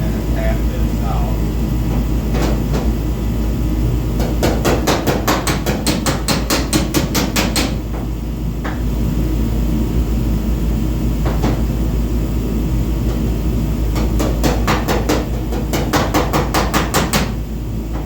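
Repeated hammer taps on the steel body of a Ram 2500 pickup, knocking out a small ding in bodywork being prepped; quick close bursts of ringing metallic strikes come in several clusters over a steady background hum, with brief talk between.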